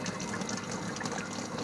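Water gushes steadily from the discharge of a boat's outboard motor during a flush with citric acid, a continuous, even splashing stream heard alone at moderate distance.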